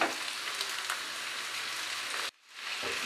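Small boneless chicken pieces with ginger, garlic and onion fry on a tawa over medium heat, giving a steady close sizzle. It cuts out abruptly for a moment, then swells back.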